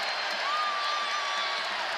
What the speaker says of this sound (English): They've got this crowd into it.